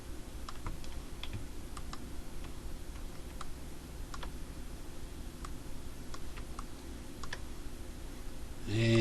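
Fast, steady clicking of keys being typed and pressed on a computer keyboard, close and fairly quiet over a constant background hum, with no voices.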